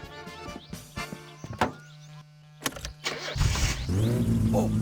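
A car engine in the driving game My Summer Car cranks with clunks and thuds, coughs, then catches and settles into a loud running idle.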